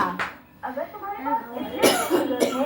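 Two or three sharp coughs close by, with a person talking in between them.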